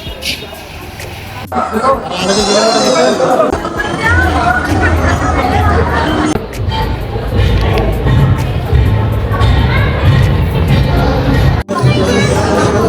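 Dense crowd hubbub at a Ganesh Chaturthi festival in Pali, a steady wash of overlapping voices and movement filling the whole stretch, with a dog barking briefly and someone speaking close over the din.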